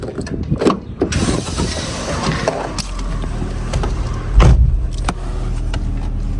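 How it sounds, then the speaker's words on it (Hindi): A car's engine starting up, followed by a steady low rumble, with door and cabin clunks near the start and a louder burst around the middle. "गाइस अब जो है वो मैंने गाड़ी स्टार्ट कर दी है।"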